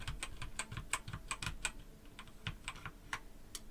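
Keys clack on a computer keyboard as letters are entered into The Oregon Trail, a quick irregular string of close, crisp taps with short pauses and no talking.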